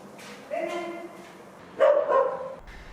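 A dog barks twice from some distance inside an abandoned, graffitied stadium, the yelps echoing faintly over a quiet background, with a pause between them.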